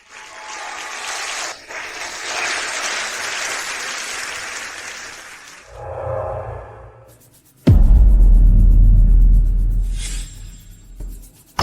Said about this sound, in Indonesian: Dengan tepuk tangan yang tulus. Sambutlah pengantin wanita.